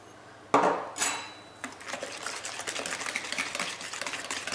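Cake batter of eggs, sugar, melted butter and milk being whisked in a bowl, a couple of sharp clinks followed by steady rapid scraping and tapping of the utensil against the bowl, close and alone.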